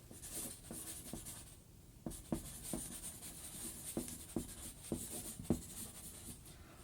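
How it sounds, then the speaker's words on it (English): A pen scratches across paper while someone signs a name, giving a run of close, crisp strokes and taps in an uneven rhythm, with no voices over it. "I'm gonna sign my name over here,"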